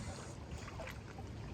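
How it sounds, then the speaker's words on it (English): Small electric trolling motor running on a fishing boat while it holds position inshore on the flats, giving a steady, continuous whir and wash of water with some wind noise, with no one talking. "I'm running the trolling motor."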